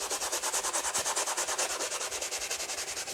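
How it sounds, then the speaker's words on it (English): A Mitsubishi 3000GT door card being scrubbed clean: fast, even, close brushing strokes in a steady repeating rhythm, with no talking. "no point in you watching me for the next 20 minutes just scrubbing the door card"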